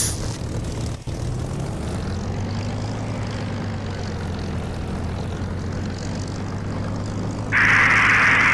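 A Spitfire's propeller engine rumbles steadily during takeoff in the DCS flight simulator, a loud, continuous drone that rises and brightens near the end, with no talking.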